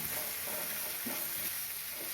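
Coriander powder sautéing in a pan with oil for a curry leaf, pepper and garlic kuzhambu, giving a steady close sizzle with faint stirring scrapes and no talking.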